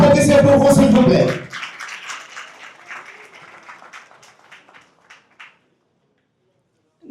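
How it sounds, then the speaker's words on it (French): Applause from a conference audience for the women present, a loud burst of many hands that quickly fades into scattered, thinning claps before dying away to silence. "On veut vous entendre applaudisser pour vous, s'il vous plaît."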